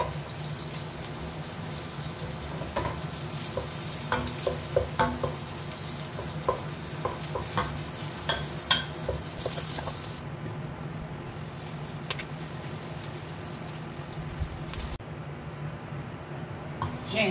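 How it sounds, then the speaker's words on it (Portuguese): A little bacon fries in a pan as the first step of a feijoada, giving a steady close sizzle with scattered crackles and a few spoon scrapes, no talking, fading to a quieter hiss near the end. "agora eu vou fritar esse pouquinho de bacon aqui"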